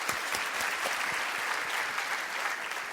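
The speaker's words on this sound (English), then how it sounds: "Give a round of applause." Dense, steady applause from a live audience at a talk with Fearne Cotton about building a wellness brand, crowded claps running evenly throughout with no voices on top.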